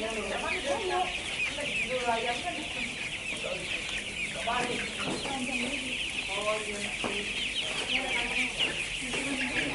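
Many broiler chickens cluck and chatter steadily in a busy coop, overlapping calls over a constant background hum.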